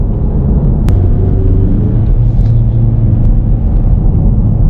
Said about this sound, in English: just taking some corners right here with this new EcoBoost Mustang